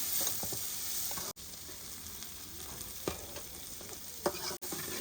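Onions fry in hot oil with a steady close sizzle, punctuated by a few scrapes and taps of a spoon stirring in the pan.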